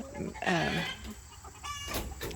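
Easter Egger chickens cluck and murmur inside a chicken tractor, close by, with a steady mix of soft calls and a louder clucking burst early on.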